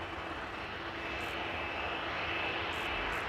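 SAS CRJ regional jet taxiing at Amsterdam Schiphol Airport, a steady broadband engine rush with a thin whine, moderately distant and continuous, with no talking.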